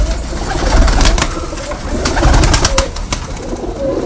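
Pigeons coo softly and repeatedly at close range, low throaty calls mixed with flapping and shuffling noises, with no one talking over them.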